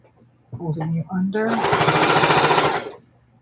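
A sewing machine stitches through about eight layers of fabric at a mitered quilt corner, starting with someone talking and then running as a loud, steady rapid chatter for about a second and a half.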